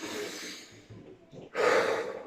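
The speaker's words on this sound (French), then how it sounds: "On peut prendre des grandes respirations" A person takes deep breaths, a soft long inhale and exhale followed by a louder, forceful breath, close and with no talking.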